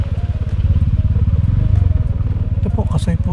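Motorcycle ridden over a rough road, its engine putting out a close, loud, pulsing drone with rattles and clatter from the bumps, and a few chirpy squeaks near the end.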